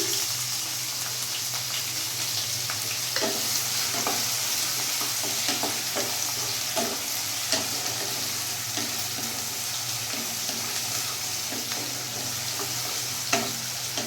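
Chopped raw onions frying in a pan for chicken do pyaza, with a steady sizzle and occasional scraping stirs, fairly quiet and continuous, with no talking.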